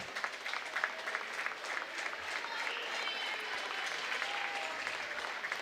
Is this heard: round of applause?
yes